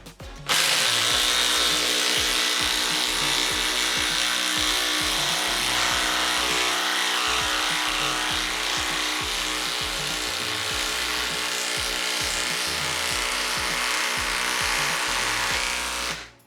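Makita XDT subcompact impact driver running 3/8 by 6 inch lag screws into wood, a continuous rapid hammering buzz lasting about sixteen seconds, loud and close with no voices.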